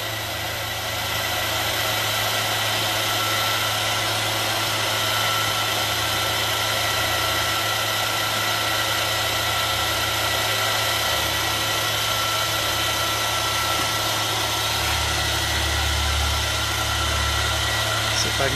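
A 6000 G waste-oil centrifuge spins up to speed, producing a steady, loud mechanical whir and hum with a low droning tone that holds constant throughout.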